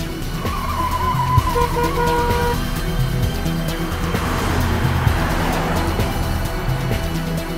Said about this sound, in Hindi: तेज चलाओ गाड़ी।